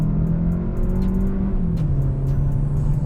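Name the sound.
2021 Kia K5 1.6-liter four-cylinder accelerating hard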